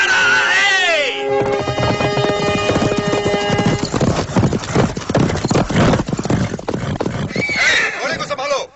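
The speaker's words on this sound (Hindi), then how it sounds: "घोड़े को संभालो।" Horse hooves clip-clop with a horse neighing loudly at the start and again near the end, in a dark horror-film scene with background score.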